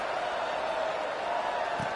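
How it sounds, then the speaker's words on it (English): Stadium crowd in a Madden football video game after a score, a steady, even roar of murmuring spectators filling the background with no distinct peaks. "this crowd is buzzing after that last score"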